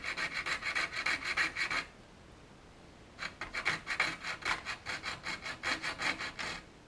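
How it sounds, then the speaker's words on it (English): A hand saw cuts with slow, even back-and-forth rasping strokes, pausing about a second before resuming the steady rhythm. "it's a nice slow cut to get you started and let the saw blade do the work"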